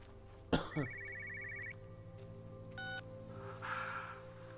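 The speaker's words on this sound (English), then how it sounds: "Let's answer this phone" A telephone rings in the video game Everybody's Gone to the Rapture: a bright repeated bell trill lasting about a second, with a soft later chime, over a steady low ambient hum.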